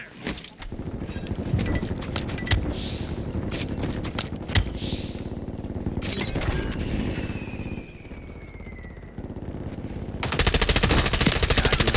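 Rapid bursts of automatic gunfire and single shots crack through a battle royale video game match, loud and close, with a brief whistling streak and a denser burst of firing near the end.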